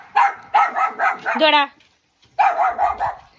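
A dog barks in a rapid run of loud, close barks with a brief whine, then falls quiet before another quick burst of barking near a backyard tapioca patch.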